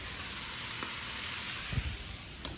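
Favas, asparagus, garlic and chilies sizzle steadily in a hot pan with a continuous bright hiss, and a few faint knocks come as they are stirred.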